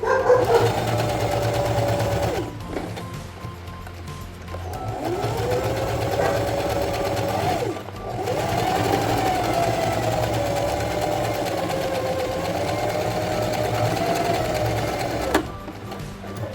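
Home sewing machine stitching a zigzag seam on a child's boxer, with a steady close mechanical whir running continuously, briefly pausing twice before resuming.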